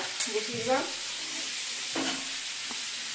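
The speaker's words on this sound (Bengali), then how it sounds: "ও আলু ভাজা" Potatoes fry in a pan with a steady, even sizzle and hiss throughout; a brief voice is heard near the start.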